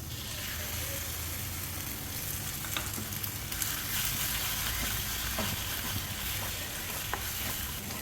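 Eggs fry and sizzle in a pan with a little grated coconut, a steady close crackle running throughout with a few sharper pops.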